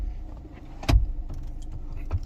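The telescopic steering wheel adjustment lever on a new Toyota Vios is released with a single close, solid clunk inside the quiet cabin, followed by faint rattles.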